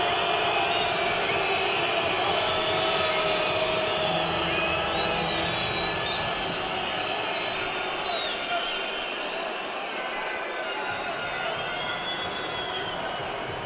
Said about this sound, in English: No surprise the crowd doesn't like that call.